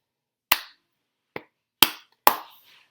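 Four sharp, isolated hand claps and pats in an uneven rhythm during a music class echo exercise, close and fairly loud with no talking over them.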